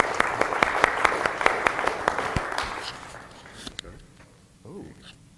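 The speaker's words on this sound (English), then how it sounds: "We can clap for Gary too" An audience applauds a presenter at a meeting, with a dense, steady burst of clapping and a few sharp individual claps that thins out and fades after a few seconds, leaving quiet room noise.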